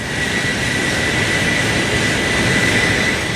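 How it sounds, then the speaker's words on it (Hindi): Stratolaunch, the world's largest plane, taking off on its first flight, a steady, loud, broadband jet roar with a sustained high whine, continuous and unchanging throughout. "दुनिया के सबसे बड़े हवाई जहाज ने जब पहली बार जमीन को छोड़कर आसमान को चूमा"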